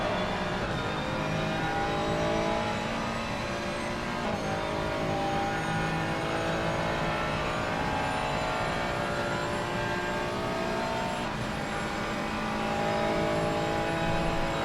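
GT3 race cars, a Porsche and a Ferrari, roar past on a racing circuit with steady, loud engine drone and rising revs, a continuous wash of motorsport noise with no clear pauses.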